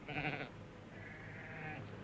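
Sheep bleat on an outback station near Lake Eyre, one short nasal bleat followed by a longer, fainter one, set against low background noise.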